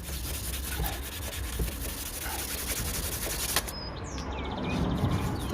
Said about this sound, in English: Hit it again with the wet and dry.